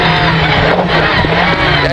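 A rally car in the Richard Burns Rally video game brakes and skids on Harju stage, a loud close engine drone with gravel scrabble and tire noise filling a short burst.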